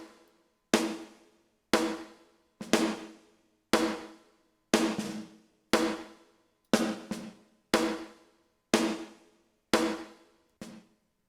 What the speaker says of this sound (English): 80s drums all use nonlinear or gated reverbs.